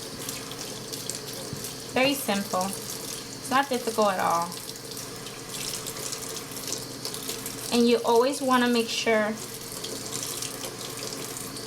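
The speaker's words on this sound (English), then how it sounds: "you start working the water into the makeup brush" Water runs steadily from a tap into a sink while makeup brushes are washed, a continuous close hiss throughout with someone talking over it in two short stretches.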